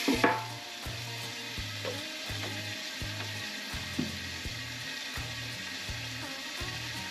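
Butterflied chicken legs fry on an oiled griddle, giving a steady, faint sizzle. A repeating low rhythmic hum runs underneath, and no one speaks.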